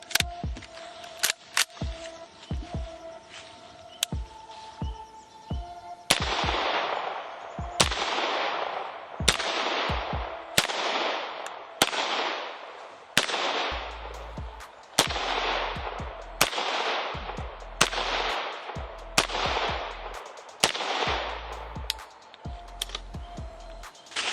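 Unsuppressed shots from a pistol-caliber SIG MPX carbine at an outdoor range about 10 yards from the target, loud sharp reports fired in a steady fast series of roughly twenty, each with a brief echoing tail, no talk.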